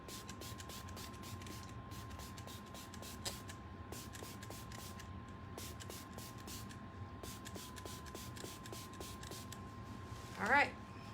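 Patina paint sprayed from an aerosol can onto a decor piece, rapid repeated short hissing bursts in a steady rhythm, close and fairly quiet, with a faint tone underneath and a brief louder clatter near the end.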